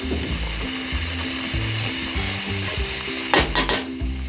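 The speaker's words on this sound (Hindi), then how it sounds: "अब इसके अंदर जो रोस्ट किए हुए करेले हैं वो शामिल कर देंगे।" Roasted bitter gourd frying with onions and masala in a pan, a steady loud sizzle with stirring and a few sharp scrapes of the spoon near the end.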